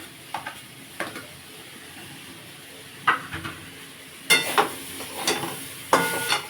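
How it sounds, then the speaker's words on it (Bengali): Potato pieces and yardlong beans fry in oil with chopped onion and green chilli added, a soft sizzle broken by several louder bursts of hiss and stirring clatter, close and without talk. "আর কাঁচা লঙ্কাটাও দিয়ে দেবো।"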